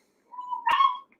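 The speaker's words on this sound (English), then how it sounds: "Jeez, I just heard her yelp." A dog gives a single short, high-pitched yelp, close and clear, with a sharp click in the middle, against an otherwise silent background.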